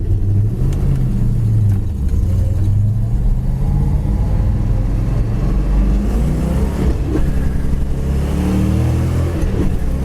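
A 1970 Plymouth Duster's engine revs while driving down the road, a loud, close, continuous throaty drone rising as it pulls in gear with road and wind noise.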